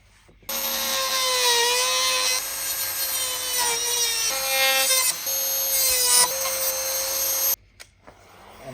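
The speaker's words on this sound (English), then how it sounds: "now I'm just going to use the Dremel to straighten up that line there" Dremel rotary tool trimming a line on part of a garage NFT hydroponic system: a loud, high whining grind that runs for about seven seconds with small shifts in pitch as it cuts, then stops abruptly.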